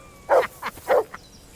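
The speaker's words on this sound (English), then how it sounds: "That barking was a pain in the ass." A dog in the video game Kingdom Come: Deliverance II gives two clear barks followed by two softer yips, fairly close and alone in a quiet setting.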